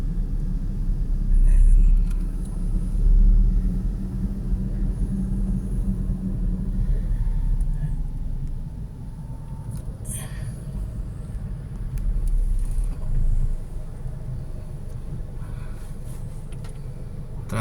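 Steady road traffic rumbles through a street beside a school in Dasmariñas Village, Makati, with cars passing close by, the low engine drone swelling and easing over the span.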